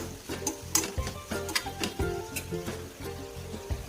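Green bean pods being stirred and mixed in a pan with a spatula, close up, giving a steady run of scraping, clinking strokes over a faint background sizzle, with no talking.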